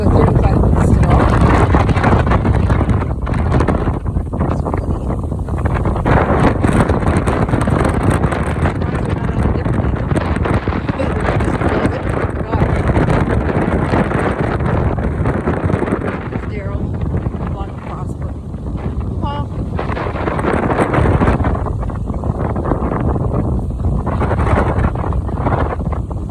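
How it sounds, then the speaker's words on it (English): Strong wind blasting across an open roadside stop on a motorcycle trip, a loud continuous roar buffeting the microphone in uneven gusts for the whole stretch. "It's so windy."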